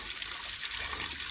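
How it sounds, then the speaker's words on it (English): Water drains steadily from a garden koi pond in a continuous, close trickling gush that holds an even level throughout, with no voices over it. "So now I've started also to draining my pond."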